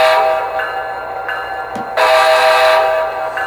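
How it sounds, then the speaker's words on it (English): Air horn on a model diesel locomotive fitted with a Tsunami2 sound decoder, sounding several short-to-medium blasts in a row, close and loud over a steady idling engine hum, with no talk. "I can blow the air horn"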